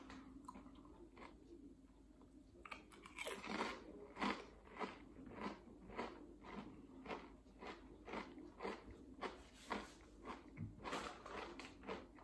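Tesco Christmas Pudding flavour crisps being bitten and chewed close up, a steady run of crisp, crackly crunches over about ten seconds with no talking.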